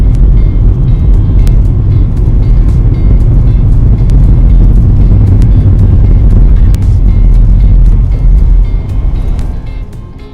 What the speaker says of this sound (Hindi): यहाँ पर कम ट्रैफिक है, कम गाड़ियाँ हैं